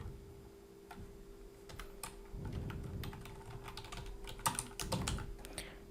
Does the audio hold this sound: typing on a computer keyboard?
yes